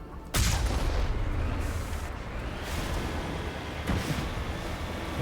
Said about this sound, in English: Okay, taking fire already.